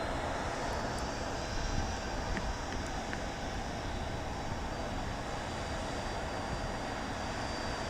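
A Southwest jet airliner arrives at Dallas Love Field at night, heard as a broad, continuous roar of engine noise that holds steady throughout at moderate distance.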